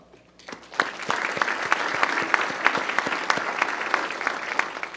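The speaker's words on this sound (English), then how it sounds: "give a round of applause" Audience at a Tinley Park business breakfast claps for sponsoring banks and companies, starting after a brief quiet moment and building into a close, crisp, steady round of applause with distinct individual claps.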